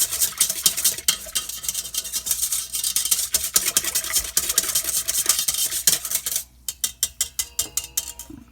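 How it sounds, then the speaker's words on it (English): A spoon stirs a yeast mixture for home-baked bread in a bowl, a steady scraping swirl for about six seconds that then turns into slower, distinct rhythmic strokes, close and clear with no talking. "I'm going to give this a good mix"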